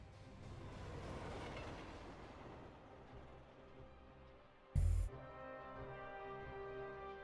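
A train in the video game Forgotton Anne rolls along with a steady rumbling, clattering hum, fairly quiet, broken by one sharp loud thud before the low mechanical drone carries on.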